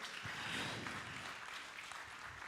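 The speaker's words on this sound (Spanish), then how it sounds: "Denle el aplauso a Dios." A church congregation applauds during a Spanish-language sermon, a dense, steady wash of many hands clapping at moderate distance, sustained evenly for a couple of seconds with no voice over it.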